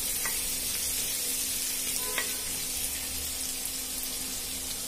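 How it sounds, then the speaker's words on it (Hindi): Ginger and garlic sizzle in hot oil in a pan while Indian-style dahi aloo sabji is cooked, a steady close frying hiss that carries on evenly with no talking. "अब मैं इसमें डालूंगी अदरक और लहसुन।"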